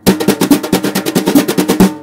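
Jazz brushes play a double stroke roll struck from the top of the drum, giving a brisk, evenly pulsed run of close, fairly loud swishy strokes.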